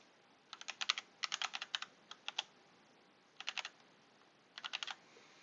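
Fingers type on a computer keyboard in quick clattering bursts with short pauses between them, the keystrokes faint but crisp against a quiet background.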